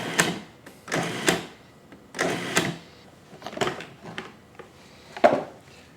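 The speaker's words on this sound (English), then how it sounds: "I'm going to chop the leaves in my food processor. We can pulse just to break up the leaves." A food processor pulses in short bursts to chop basil leaves, several quick whirring spurts separated by pauses, moderately close and with no talking.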